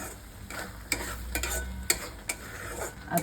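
Masala fries in oil for restaurant-style matar paneer while a spoon stirs it, a soft continuous sizzle broken by several sharp scraping clicks against the pan.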